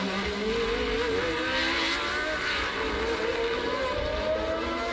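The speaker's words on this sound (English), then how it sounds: "there is Arnoux, the turbocharged Renault, of course using a smaller but much more powerful engine with its turbocharger" A 1982 Formula 1 race with a turbocharged Renault and V8 Cosworth cars: a continuous engine roar with rising and falling pitch as cars pass at a distance, with no talk.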